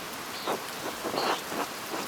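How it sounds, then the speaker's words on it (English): Steady hissing rain from a thunderstorm in the video game Pentiment, with a few soft rumbling swells of distant thunder rising over the constant downpour. "Wow, look at this thunderstorm"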